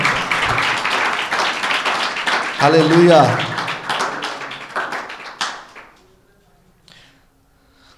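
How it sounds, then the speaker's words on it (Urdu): Church congregation clapping hands together, a dense burst of crowd applause swelling and then fading away, mixed with voices and a short spoken exclamation. "یسوع مسیح کے لیے تالیاں بجائیں"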